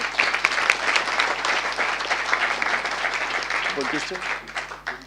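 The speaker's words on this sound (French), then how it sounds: "on peut les applaudir, hein, c'est une belle" An audience breaks into sustained applause, dense and steady for several seconds, with a voice briefly audible near the end.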